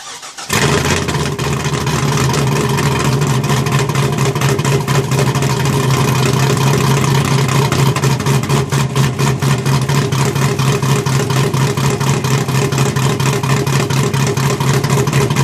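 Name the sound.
6.0 GTO engine cold start idling, exhaust cutouts half open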